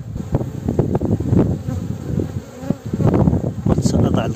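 Honey bees buzz loudly and close during a beehive inspection, a dense droning hum with rising and falling swells, with a faint voice underneath.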